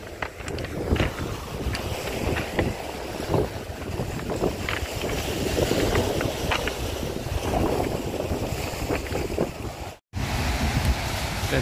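Open sea far from shore, where a father and daughter are fishing from a small boat: a steady, rushing wash of waves and wind buffeting the microphone, continuous and fairly loud, with a brief dropout near the end.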